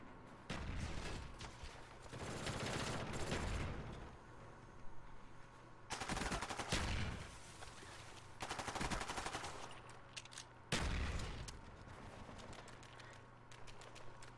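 Repeated bursts of automatic gunfire and single shots from Black Ops 1 multiplayer, loud rapid volleys separated by brief pauses, with no talking.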